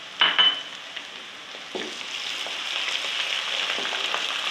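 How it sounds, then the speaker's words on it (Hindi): Garlic ginger paste frying among browned onions for Punjabi kadhi pakora: a steady, close sizzle throughout, opening with a sharp hiss as the paste hits the hot pan and a brief stir partway, no talking. "अब इसमें मैं लहसुन अदरक का पेस्ट डालूँगी,"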